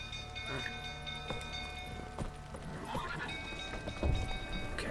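Roach, a horse in The Witcher 3, runs in the game with quick, rhythmic hoofbeats at moderate loudness, accompanied by faint in-game ambience and an occasional thud.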